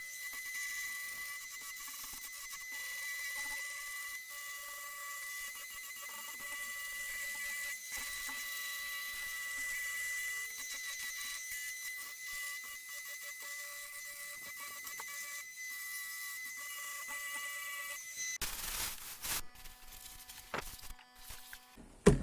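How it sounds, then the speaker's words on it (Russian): A 40-grit abrasive disc on a power tool sands a wooden chest, producing a steady, thin high-pitched whine that runs unbroken for a long stretch before giving way to clattering handling noises and a final knock. "Теперь берем наждачный круг, вот такой. 40-очку ставим и начинаем доводить до ума."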